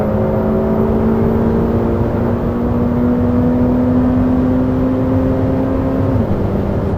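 A Ferrari F8 Tributo accelerates, its engine a steady loud drone with a rising tone that holds and then drops near the end, with no talk over it.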